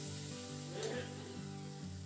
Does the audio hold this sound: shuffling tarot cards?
no